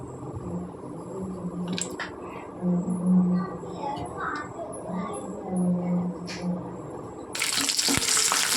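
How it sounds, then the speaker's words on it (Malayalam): Tamarind water is poured into a pot of avial, giving a soft watery splash and trickle up close, with a voice murmuring in the background and a brief rush of noise at the end. "നമുക്ക് ഇതിനകത്തേക്ക് കുറച്ച് പുളി ഒഴിച്ച് കൊടുക്കാം കേട്ടോ"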